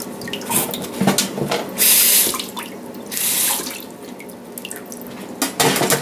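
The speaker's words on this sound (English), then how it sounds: "You can see the water runs right off of it." Water splashes and runs over a keyboard in uneven bursts, with a couple of louder gushes and scattered drips in between, fairly close.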